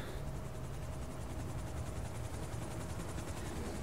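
A steady helicopter rotor drone from the video game GTA Online, with rhythmic blade chop, holds at constant loudness throughout, with no voices.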